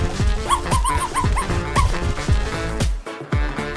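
A small dog whimpers and yips near the microphone, a quick series of high, rising cries that repeat in a broken rhythm, loud and close.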